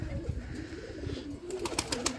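Several pigeons, one a black bird, give steady murmuring coos close by, joined near the end by brief bright clicks and wing or claw rustles, with no voices.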